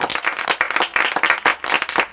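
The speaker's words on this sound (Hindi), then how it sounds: "जोरदार तालियां बजाइए दोस्तों, क्या डांस किए हैं हमारे टीचर्स ने" A crowd of people at a school Republic Day program claps enthusiastically after a teachers' dance performance, a dense burst of hand claps that rises and falls in rapid waves, close and loud.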